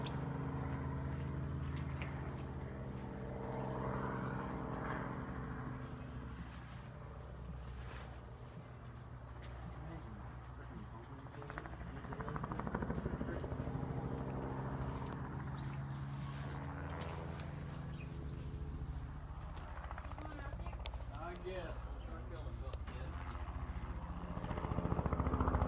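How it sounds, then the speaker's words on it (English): A crop-spraying helicopter banking in steep turns over a field throbs with a loud, continuous rotor drone whose pitch and strength swell and ebb as it circles, and a voice talks over it. "This helicopter making some steep turns while spraying a field."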